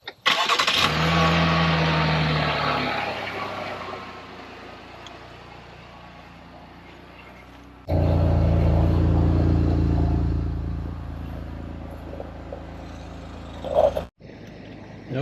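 A Chevrolet Blazer's 300-horsepower engine cranks and fires, revs briefly and settles into a quieter idle, then starts again with another loud rev before fading and shutting off.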